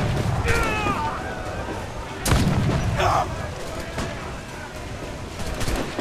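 Ship cannons fire in naval combat in the game Assassin's Creed Black Flag, a few sharp booming blasts scattered over several seconds amid battle noise, with someone speaking German at points.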